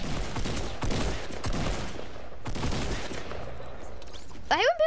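Rapid bursts of video game gunfire fill the whole stretch, dense and continuous, with a brief electronic whoosh or effect near the end and a person talking over it.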